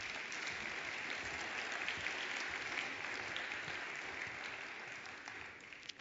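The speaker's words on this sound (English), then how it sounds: "A round of applause for our panellists," Steady applause from a sizable crowd, dense and continuous throughout, tapering slightly toward the end.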